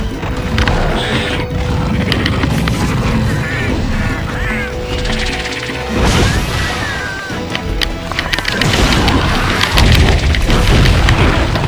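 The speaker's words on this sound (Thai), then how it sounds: "ระเบิด" Explosions and impact booms from the Monster Hunter Portable 3rd video game, loud and repeated over busy in-game effects, creature squeals and clattering mechanisms, with no voices.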